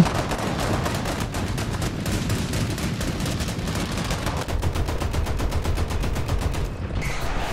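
Anti-aircraft guns in the War Thunder video game fire at an A-10, dense rapid bursts of gunfire that keep going without a break, loud and close, with no talking.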